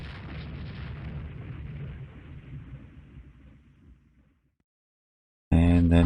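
A 14-inch naval shell strikes a warship in the Rule the Waves 2 game, heard as a loud rumbling explosion that slowly decays into quiet, followed by a sudden loud burst.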